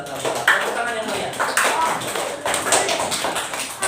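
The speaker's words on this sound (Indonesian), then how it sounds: "tepuk tangan untuk Ananda tadi yang membaca Al-Quran surat Al-Falaq" A primary school class claps for a pupil who recited Surah Al-Falaq, bursts of close, uneven hand claps rising and falling, with a voice talking over them.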